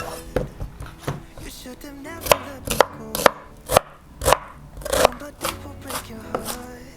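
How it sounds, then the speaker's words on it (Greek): Knife chopping a large onion on a wooden cutting board, with a dozen or so sharp, close thuds falling in an uneven rhythm and no talk between them. "Θα κόψω ένα μεγάλο κρεμμύδι."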